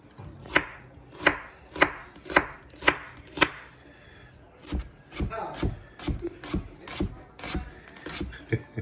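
Rapid knife strokes julienne-cutting vegetables on a cutting board, a steady run of sharp chops followed by quicker, lighter cuts, close and clear.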